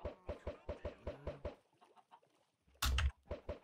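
Minecraft chickens cluck in a quick run of short, evenly spaced clucks, followed by a quieter pause and one brief loud burst.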